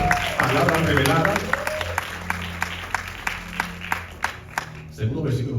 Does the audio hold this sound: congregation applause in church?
yes